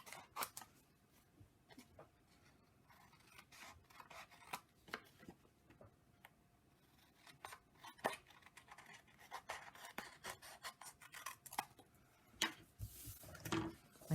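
Scissors snip through cardstock in quiet, close, irregular cuts, trimming the edge of a paper craft card, with soft handling rustles between snips and no talk.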